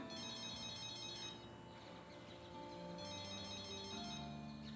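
A mobile phone rings with a repeating electronic ringtone melody, steady and moderately loud, playing continuously through the whole stretch with no voices over it.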